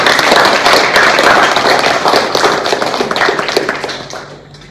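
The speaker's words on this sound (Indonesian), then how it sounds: "Tepuk tangan dulu." An audience at a university teaching assessment session bursts into applause, a loud, dense clatter of many hands that holds steady and then tapers off toward the end, with no voices over it.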